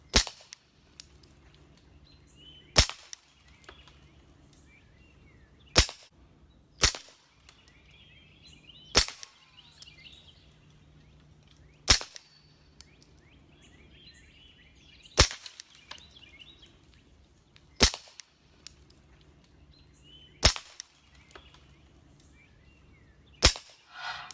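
Sharp, snappy suppressed gunshots pop out one at a time, about every three seconds, against a quiet outdoor background with faint birds.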